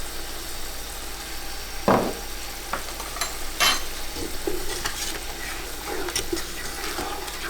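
Garam masala and cumin fry in a pot for Kabuli pulao, a steady close sizzle broken by a few louder scraping stirs, with no talking.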